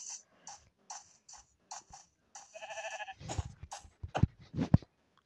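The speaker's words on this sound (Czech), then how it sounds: "Kde seš ty ovce?" Sheep in a crafting video game give a series of short, nasal bleats, some repeated in quick bursts, followed by louder thumping hits and grunts near the end.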